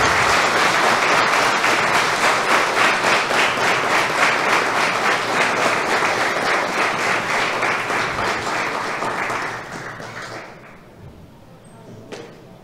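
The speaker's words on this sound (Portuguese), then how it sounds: "Uma salva de palmas, senhoras e senhores" Ceremony audience at a formal award session honoring Mestre Bimba breaks into strong, rhythmic applause with crisp individual claps, fading gradually toward the end and leaving only a few scattered claps and a soft thud.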